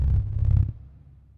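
A deep, smooth sine-wave sub-bass tone sustained for under a second, then quickly fading out, clean with no hiss or noise.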